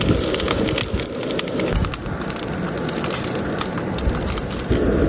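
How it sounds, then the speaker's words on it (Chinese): Eggplant sizzles and crackles as it fries in hot oil in a pan, a loud, continuous hiss with dense popping that holds steady and briefly swells near the end, with no talking. "给它煎一煎。"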